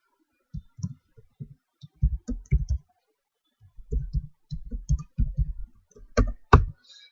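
Keys clatter on a computer keyboard as a complaint title is entered into a web form, several quick bursts of close, crisp clicks separated by short pauses, with a louder flurry near the end.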